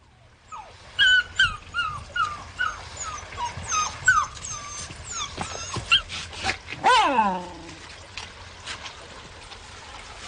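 A dog named Jasper whimpers and yelps in a run of high, wavering cries, then lets out a long, drawn-out howl, with faint background noise underneath.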